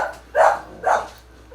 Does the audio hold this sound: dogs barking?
yes